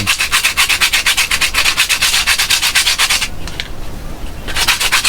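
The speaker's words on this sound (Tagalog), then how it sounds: "Ito naman sa ating outsole ganun din. Liha lang din. Ayan, lihain nyo lang." Sandpaper rubbed hard against a shoe outsole in quick, steady back-and-forth strokes, loud and close, with a brief pause before the rhythmic scraping resumes.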